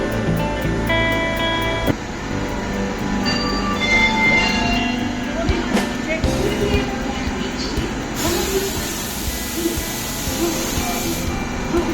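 A passenger train at a busy Indian railway station gives a continuous loud rumble and rattle with metallic tones and hiss throughout, while voices murmur in the background.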